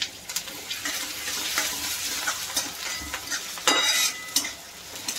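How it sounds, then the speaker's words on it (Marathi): Crushed green chili thecha fries in oil for methi besan pithla, crackling and sizzling up close while a utensil stirs and scrapes the pan in uneven bursts, with no voices. "आता आपण ठेचा बनवलाय तो पण चांगला परतून घेऊया"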